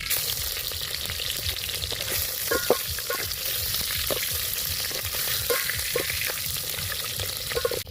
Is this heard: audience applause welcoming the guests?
no